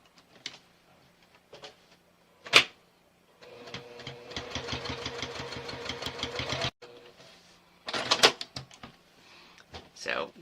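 A sewing machine stitches a quarter-inch seam through bag lining fabric, running in a steady rapid whirring burst of a few seconds between quieter handling clicks and bumps; no one speaks over it.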